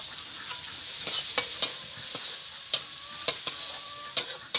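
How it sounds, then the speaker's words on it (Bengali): Onions fry in a pan with salt and turmeric for a Bengali shrimp and taro-stem dish, giving a soft steady sizzle broken by sharp, irregular scrapes and clicks of stirring. "পেঁয়াজটা আমি একটু লাল লাল করে ভেজে নেব।"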